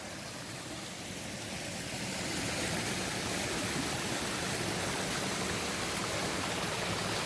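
A clear, cold mountain stream in a forest rushes steadily, a loud unbroken wash of flowing water that swells slightly early on and then holds constant, with no voices.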